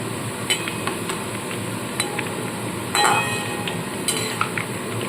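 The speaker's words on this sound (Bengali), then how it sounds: "সমানে কিন্তু নাড়তে থাকতে হবে" Shredded potatoes for crispy jhuri aloo bhaja fry in a pan while being stirred, giving a steady sizzle with sharp scraping clicks of the spatula against the pan at irregular intervals.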